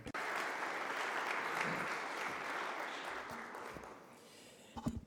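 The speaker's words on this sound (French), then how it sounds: "Accueillons Dr Samuel Roger Kamba et applaudissons-le." An audience at an ILO social protection session applauds to welcome a speaker, Dr Samuel Roger Kamba. Dense clapping holds steady, then thins and fades toward the end as a voice starts.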